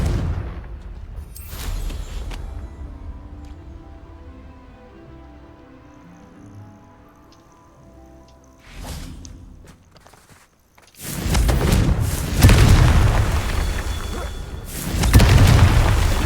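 Explosive booms from the Confringo fire spell in the video game Hogwarts Legacy, several heavy blasts with a large loud eruption in the second half amid rumbling game effects.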